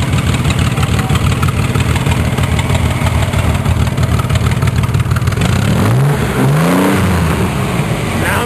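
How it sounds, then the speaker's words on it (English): A car engine with a straight-pipe exhaust revving loud and close, rough and sustained, then dropping back toward idle near the end. "Want to rev that up for me?"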